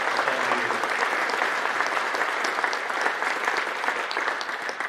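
Audience applause in a gymnasium, sustained clapping from a sizeable crowd holding an even level and tapering slightly at the end.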